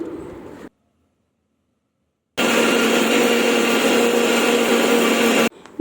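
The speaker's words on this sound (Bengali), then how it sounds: "এখন মশলাটা পেস্ট করে নিই।" A kitchen grinder blends a spice paste with green chillies in one loud, steady whirring run of about three seconds, preceded by a brief lower mechanical burst and a pause.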